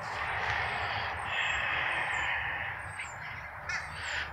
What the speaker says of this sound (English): got some ravens and crows, and then you got I think they're ravens